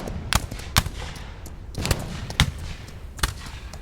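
Gunfire sound effects in a western skit: about six sharp gunshots at uneven intervals, fairly close, over a low background rumble.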